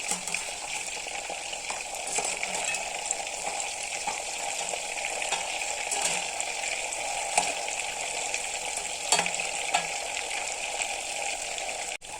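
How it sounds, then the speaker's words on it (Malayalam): Chicken pieces fry in hot oil for chicken kondattam, a steady close crackling sizzle with occasional sharper pops and faint stirring knocks, continuous and even with no voices. "അടുത്തതായി ചിക്കൻ ഒന്ന് വറുത്ത് കോരിയെടുക്കുക"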